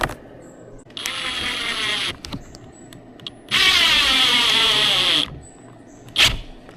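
A power drill drives a fastener through thick pole barn material in two bursts, a short run then a longer sustained whir rising in pitch, with brief clicks between and a final quick blip.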